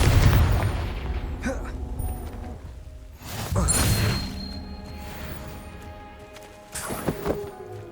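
Confringo fire spell blasts in Hogwarts Legacy, a series of booming impacts and crashing thuds at roughly one, three-and-a-half and seven seconds, loud and close, with other game effects between.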